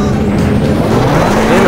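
A Peugeot 206 WRC 2002 rally car in a racing video game fires back up on a dirt stage in Umbria, its engine and tyre noise a loud, continuous roar with a voice partly over it.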